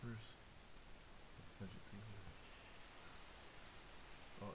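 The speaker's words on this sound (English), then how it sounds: "Oh, now it's raining." Steady, hissing rain in the game Minecraft fills the scene at low volume, with a few brief muffled voices breaking through.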